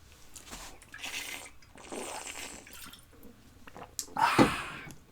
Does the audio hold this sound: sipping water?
yes